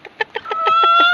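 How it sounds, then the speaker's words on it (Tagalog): A hen clucks in quick, close, loud bursts after laying an egg, and the calls run together into a longer drawn-out cackle. "Nangitlog ag yung manok."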